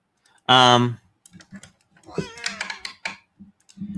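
A cat meows loudly and clearly close to the microphone, one drawn-out tonal call. Keyboard clicks and people talking follow, with another short mew near the end.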